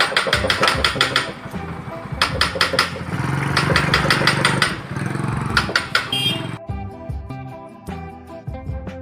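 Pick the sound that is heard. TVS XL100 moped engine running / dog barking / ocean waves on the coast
TVS XL100 moped engine running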